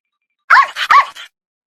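A dog gives three quick, loud, close barks in a tight cluster, with silence before and after.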